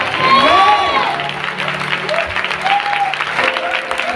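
Congregation in a church breaking into applause, a dense ripple of clapping with some cheering, mixed with a voice and musical tones, fading slightly toward the end.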